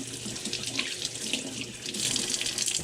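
Tap water runs steadily into a kitchen sink while hands are washed during cooking, a close, continuous splashing stream with no talk.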